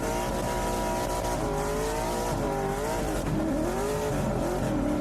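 A Porsche drift car's engine revs hard while tires squeal and skid in long wavering screeches through transitions, close and loud, with no talking.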